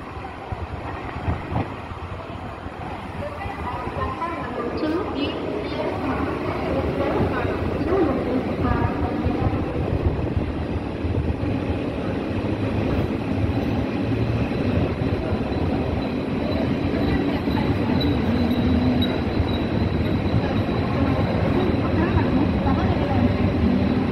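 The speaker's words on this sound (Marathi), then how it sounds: "एक ट्रेन तिकडनं येते" A train runs on the Uran railway near JNPT port at Nhava Sheva. It makes a loud, steady rumble and roar that holds for the whole stretch, with a voice heard at times.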